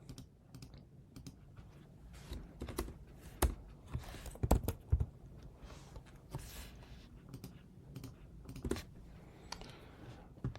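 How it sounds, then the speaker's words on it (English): Someone types on a computer keyboard in quiet, irregular bursts of clicking, with some keystrokes standing out louder and close by, and no talking. "Typing"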